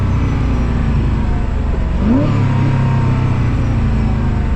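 Koenigsegg CCX engine pulling hard on the Autobahn, a loud steady drone heard from inside the car that rises in pitch midway as it accelerates, with constant road and wind roar beneath.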